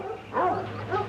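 A dog in a coon-hunting contest gives short whining yips and a bark-like bowwow at middle distance over a steady low hum.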